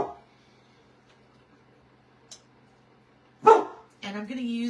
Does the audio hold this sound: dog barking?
yes